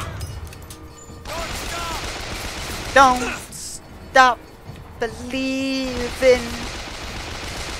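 Sniper rifle shots in BioShock Infinite ring out as a few sharp, widely spaced cracks, each followed by a mechanical bolt or reload clatter, while a person talks throughout.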